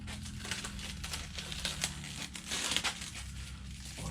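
Plastic packaging crinkles and crackles in quick, faint bursts as a black chrome bumper for a TRX-6 RC hauler is unwrapped up close, a soft hum running underneath.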